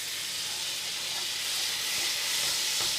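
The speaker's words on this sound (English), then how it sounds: "the lemon juice serves to kind of deglaze the pan as well as start our sauce" Lemon juice hits a hot pan for a deglaze, giving a continuous loud steamy hiss and sizzle that swells slightly toward the end, with faint clinks from stirring underneath.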